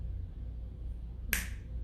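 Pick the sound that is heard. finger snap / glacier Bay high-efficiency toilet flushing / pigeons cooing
finger snap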